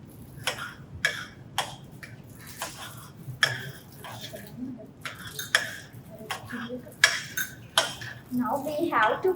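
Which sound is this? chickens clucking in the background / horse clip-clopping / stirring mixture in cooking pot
stirring mixture in cooking pot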